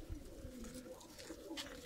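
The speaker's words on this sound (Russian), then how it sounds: "Это голубь." A Stavropol high-flying pigeon coos softly and close by, a few low, rolling notes in a quiet setting.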